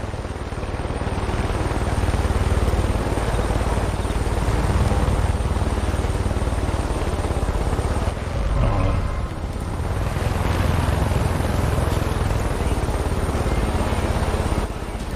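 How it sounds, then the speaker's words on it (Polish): A helicopter in the Far Cry 5 video game roars overhead with a loud, steady rotor and engine drone that fills the whole stretch, rising and easing slightly but never stopping. "chyba ten śmigłowiec jakiś patrol wezwał"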